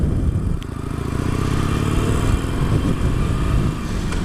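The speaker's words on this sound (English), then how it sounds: "you will hear some engine noise from this thing" A 2017 Harley-Davidson Iron 883 Sportster motorcycle engine runs steadily, a close, loud low-pitched throbbing idle with an even pulsing beat and no talk.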